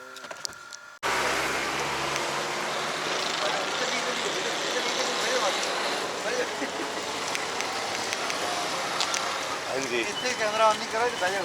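A motorbike engine runs steadily on a Karachi street, starting abruptly after a second of quiet and then a constant close rumble that continues under people talking.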